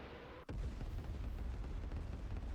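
An artillery piece fires once with a sharp, loud boom, followed by a long, heavy rumble that fills the rest of the moment with no voices.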